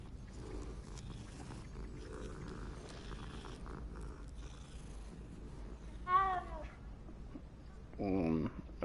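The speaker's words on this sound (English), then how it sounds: "It's a weird meow." A digitized cat in the video game Hogwarts Legacy meows twice in short, warbling bursts over a steady mechanical hum and faint background sounds.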